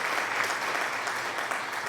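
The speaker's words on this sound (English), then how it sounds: "Thank you for the applause" Dense, continuous clapping from a group, steady and even throughout, with no pauses.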